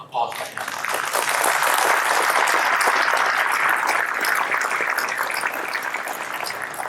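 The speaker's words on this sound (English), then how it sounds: "So a special round of applause right now." The audience at the 2016 Maine Sustainability & Water Conference gives the event organizers a long, sustained round of applause. It swells quickly and stays full and even for several seconds.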